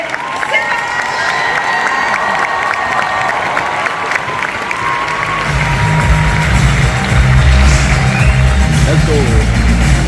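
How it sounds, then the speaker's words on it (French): A loud crowd cheers and claps at a cosplay contest at the Polymanga convention in Lausanne. The dense roar of voices and applause carries on throughout, and a deep, booming music bed enters partway through. "je vous demande de l'applaudir bien fort"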